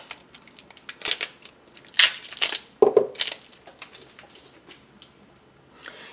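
Gold foil washi tape rolls are unpacked from crinkly packaging, giving close, irregular bursts of rustling, crackling plastic and paper with small taps, louder in the middle and fading toward the end.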